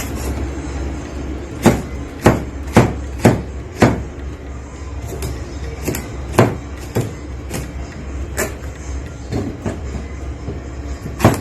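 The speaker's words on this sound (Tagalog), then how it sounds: "So we have to cut it into cubes also" A knife chops eggplant into cubes on a board, a dozen or so sharp, close thuds in an uneven rhythm over a low background hum.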